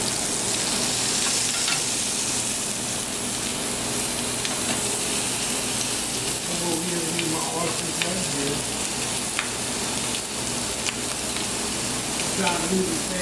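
Fish frying in oil on a restaurant griddle, a steady dense sizzle throughout with occasional pops and scraping, someone speaking intermittently over it.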